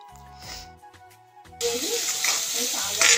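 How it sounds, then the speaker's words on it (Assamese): Onions frying in hot oil in a kadai for an Assamese-style curd chicken curry, a loud sizzle that bursts in halfway through after quieter clinking and tonal kitchen sounds, continuing steadily to the end. "এই পিয়াজখিনি ভালদৰে ভাজি লওঁ"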